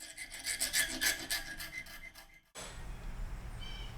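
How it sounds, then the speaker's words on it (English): A metal file rasps across a cut storm door latch handle to smooth it, with quick repeated close strokes, then a pause before a softer rubbing and handling noise follows. "A little bit of filing."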